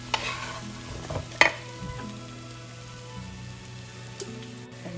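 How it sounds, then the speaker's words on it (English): Brussels sprouts being tossed with olive oil and salt for roasting, a soft stirring and rustling with a few sharper clatters and knocks, close by and moderately quiet over a steady low hum, no voices. "Little salt, a nice little toss of all the ingredients"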